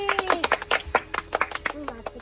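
A few people clapping by hand in a quick, uneven patter of close claps, with excited voices talking over them.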